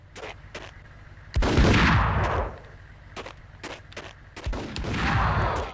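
Gunfire from the video game Max Payne: a sharp shot, then two long, loud bursts of rapid shooting with crackling ricochets, separated by scattered single shots against a low hum of game music.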